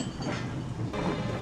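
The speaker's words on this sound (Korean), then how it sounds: "출발하는 기차." A departing train in a World War II war film gives a steady, loud rumble and clatter of wheels and carriages, with no speech over it.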